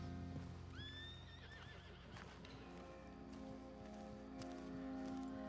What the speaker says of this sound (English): call my horse over here